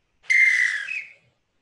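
A single sustained whistle blast, bright and steady, about one second long, alone and clean as one cue in a rhythmic percussion piece.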